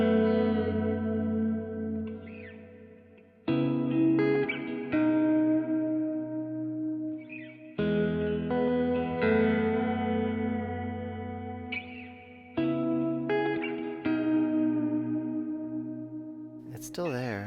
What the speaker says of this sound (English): Let's do vibrato into reverb and see what we have.